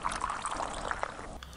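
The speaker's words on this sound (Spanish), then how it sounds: "el sonido del café virtiéndose en la" Coffee pours into a cup in a short, close trickling stream that stops abruptly near the end.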